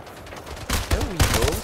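Gunfire in the video game Splitgate, a short burst of rapid shots and impacts cutting in abruptly after a quieter moment, loud and close amid game effects.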